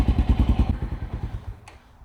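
A Honda XR650L dirt bike with an FMF Powercore 4 exhaust puts out deep, close thumping exhaust pulses that slow and fade over two seconds, with a faint click near the end.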